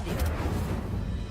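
Incendio fire spell cast in the video game Hogwarts Legacy, a dense, loud burst of roaring, crackling whoosh with a heavy low-end rumble, sustained evenly for just over a second with no talking.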